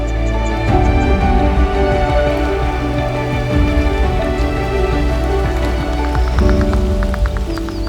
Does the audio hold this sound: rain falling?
yes